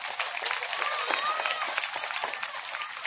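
Loud, steady applause from a large devotional gathering at a religious discourse, continuous clapping throughout with some voices mixed in.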